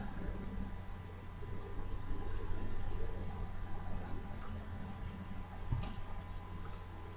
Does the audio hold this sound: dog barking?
no